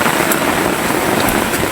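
Steady rain falls heavily and continuously, a dense hiss close by with no talk.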